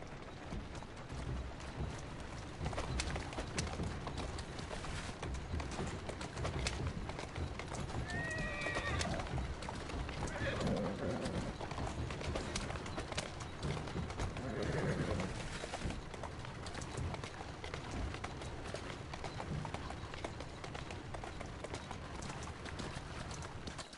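Faint hoofbeats clop in the video game Syndicate over a steady background hum, with a couple of soft horse whinnies in the middle.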